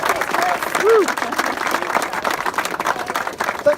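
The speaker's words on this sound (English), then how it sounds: "giving them a good round of applause for all the hard work that they put in" A crowd at a parkrun event applauds steadily, dense clapping throughout, with a few short whoops and a voice briefly audible over it.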